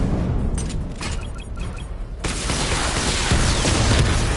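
Missile barrage firing in the video game Batman: Arkham Knight, a dense, loud rush of rumbling launches and booms that swells partway through and keeps roaring to the end.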